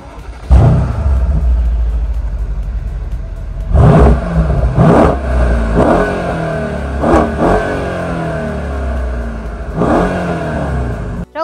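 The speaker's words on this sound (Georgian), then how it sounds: "8 ცილინდრის გუგუნიც აუცილებლად უნდა მოგასმენინოთ." A 2013 Mercedes SL63 AMG convertible with its V8 engine revving loudly and close by, several sharp blips rising and falling over a steady deep idle rumble, alone with no talk.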